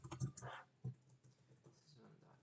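Computer keyboard being typed on while writing code, a few quick clustered key clicks close up, faint, with a pause between bursts.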